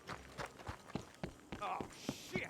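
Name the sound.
horses clip-clopping in video game Red Dead Redemption 2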